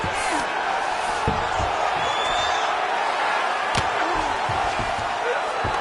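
A fight-night crowd at an AFL mixed martial arts event roars steadily and loudly throughout, a dense wash of cheering with scattered whoops and sharp slaps.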